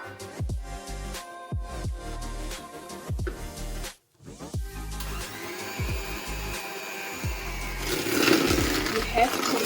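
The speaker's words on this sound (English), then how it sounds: "So we're gonna be mixing our butter with half a cup of sugar. We are going to be whisking these together." Butter and sugar being mixed together for traditional South African vanilla cupcakes, a whirring mechanical mixing sound starting and stopping in short bursts, briefly cutting out, then running steadily and building louder toward the end.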